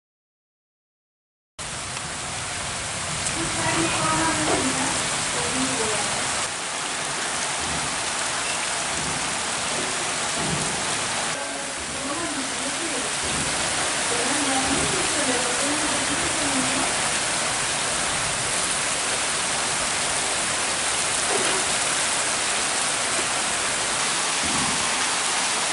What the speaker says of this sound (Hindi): आज बुधवार को भी अहले सुबह बारिश ने जो रफ्तार पकड़ी वह लगभग दिन भर फिर देर शाम तक जारी ही रही